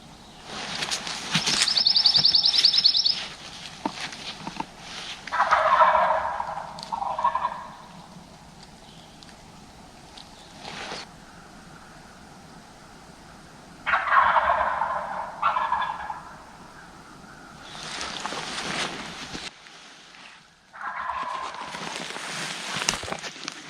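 Wild turkey gobbles, from longbeard gobblers on a ridge during a Georgia spring hunt, ring out in several distinct rattling calls at a moderate distance, with quiet outdoor gaps between them.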